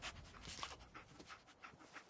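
Dogmeat the dog panting in Fallout 4, quick rhythmic breathy pants repeating close and fairly quiet, with no talk over them.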